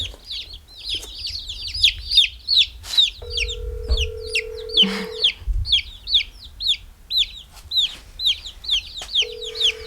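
Chickens cluck and chirp in a busy, continuous chorus, with a steady electronic tone cutting in partway through and a low thump or two.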